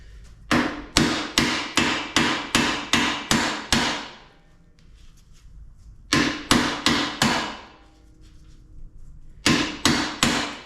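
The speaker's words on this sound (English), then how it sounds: "Let's try pounding that thing out again." Hammer blows pound a stuck part out of a 2009 Yamaha Raptor ATV, with a nut threaded on to protect the threads. Loud metallic strikes land in three fast bursts of about seven, four and three hits, with short quiet gaps between the bursts.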